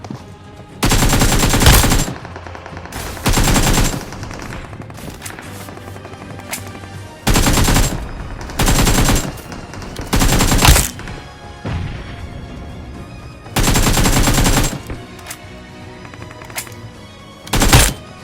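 Bursts of rapid automatic gunfire from an M416 in the mobile shooter BGMI, several loud sustained volleys separated by short pauses, with a final short burst at the end and no talking.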